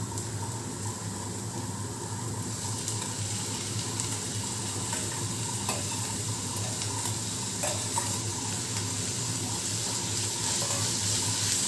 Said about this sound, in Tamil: அடுத்தது நம்ம கட் பண்ணி வச்சுருக்க தக்காளி காயும் அதிலே போட்டுட்டு நல்லா வதக்கி விடணும்.